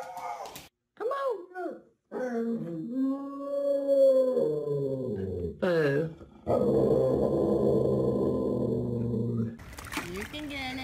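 A dog lets out drawn-out, wavering howls broken up by rough growls, loud and close, with short gaps between the calls.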